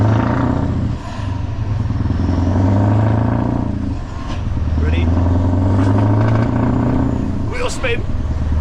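A straight-piped Scania V8 truck revs its exhaust in loud, deep surges that rise and fall several times, with brief gaps between bursts and a voice talking over it.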